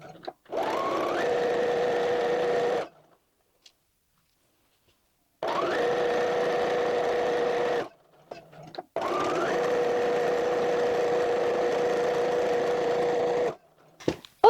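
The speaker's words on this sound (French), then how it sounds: "il va être temps de coudre ici, et de coudre ici le long des épingles qu'on a mis" A sewing machine stitches fabric for a Viking hood in three steady runs of even whirring separated by silent pauses, close and clear, with faint handling noises between runs.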